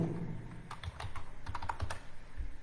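Someone types on a computer keyboard in a code editor, with quick irregular clusters of clicking keystrokes, close and moderately loud.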